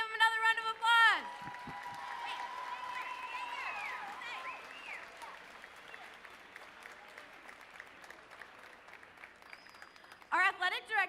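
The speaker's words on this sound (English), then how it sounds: "Let's give them another round of applause." Broad, steady clapping from a crowd fills most of the stretch, with a raised voice speaking at the start and again at the end.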